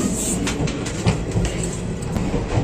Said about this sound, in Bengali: চলো ট্রেনটা ছেড়ে দিয়েছে